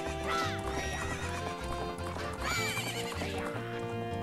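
Epona the horse in Zelda: Majora's Mask, galloping with rhythmic clip-clop hoofbeats and letting out two loud whinnies amid background game music, close and prominent.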